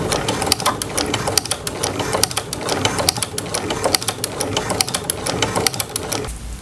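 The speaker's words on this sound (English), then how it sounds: "I have my walking foot on my sewing machine." A sewing machine fitted with a walking foot stitches twill tape onto a wrap skirt, producing a fast, steady mechanical clatter of rapid needle strikes that runs close and continuous before stopping at the end.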